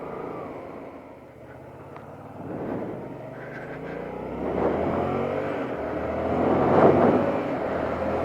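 A Yamaha FZ-07 (MT-07) motorcycle pulls hard in fourth gear on an open road, its engine drone swelling steadily under rushing wind noise.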